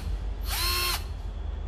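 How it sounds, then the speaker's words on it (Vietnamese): A cordless 10.8V battery drill with LED light and variable speed spins up briefly on its own, a single half-second whine in a quiet room. "Cái khoan ha."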